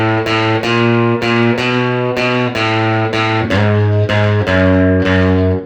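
An electric guitar plays a blues walk-up, picking a rhythmic run of distorted notes and chord stabs before landing on a ringing E ninth chord.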